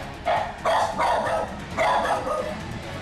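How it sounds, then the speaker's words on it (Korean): A poodle barks several times in quick succession from a short distance, sharp yaps over a faint background hum. "오랜만에 들어오자마자 막 짖는 소리가 들리는데"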